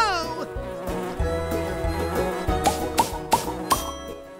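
Animated cartoon bees buzz in flight, a droning, humming tone that wavers in pitch, joined by a few bright pinging accents toward the end.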